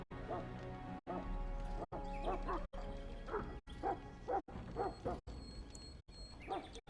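A hound in the video game Dragon Age: Origins, roaming a castle, lets out repeated loud yips and barks in short bursts separated by brief silences, with some whining tones mixed in.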